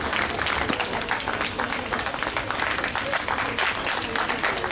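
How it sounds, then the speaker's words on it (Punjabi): Students applauding at a women's college ceremony, continuous dense clapping from a crowd, moderately loud and sustained without pause. "ਤਾੜੀਆਂ ਬੱਚੇ ਤਾੜੀਆਂ।"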